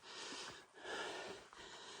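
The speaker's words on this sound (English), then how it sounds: "heavy breathing, grunting and groaning at no additional charge." A hiker on the Appalachian Trail climbing the Bigelows breathes heavily, with close, rhythmic breaths and a couple of sniffs that rise and fall.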